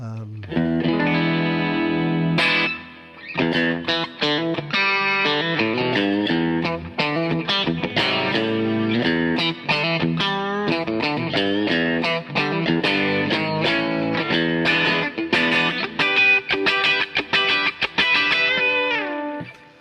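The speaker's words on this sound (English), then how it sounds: "This is a kind of Vox AC30 type patch with probably just a little bit of reverb and compression on." Clean, slightly compressed Tele-style electric guitar riffs through a Vox AC30-type amp patch with a touch of reverb, played rhythmically and steadily with short gaps throughout.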